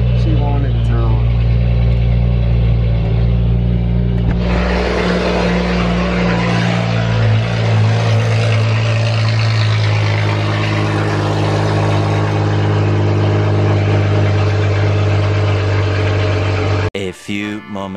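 A BMW F32 with a wide body kit starts and runs steadily: a loud low engine drone and rumble fills the whole stretch, with a brief break and rattle at the end.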